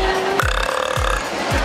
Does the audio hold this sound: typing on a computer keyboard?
no